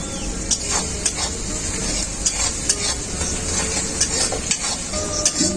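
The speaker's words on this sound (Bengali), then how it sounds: "রাঁধুনিটা দেওয়ার পর রাঁধুনিটাকে খুব ভালো করে ভেজে নিয়েছি" Ground radhuni spice paste fries with onions in a pan for an egg and brinjal curry, a loud, steady sizzling hiss broken by regular stirring clicks and scrapes.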